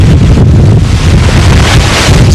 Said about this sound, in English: you start to hear the wind flying through pieces of metal and stuff